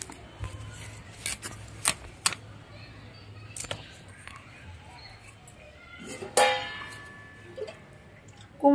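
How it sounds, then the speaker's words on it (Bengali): Vegetables such as pumpkin and radish being cut for a Bengali panchmishali mixed vegetable curry, heard as sparse sharp knife clicks and chops against a board with soft handling noises, close up and intermittent. "পাঁচমিশালি তরকারির জন্য সবজিগুলো কেটে নেব"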